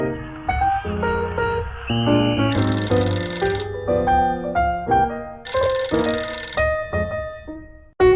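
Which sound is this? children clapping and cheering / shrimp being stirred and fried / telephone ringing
telephone ringing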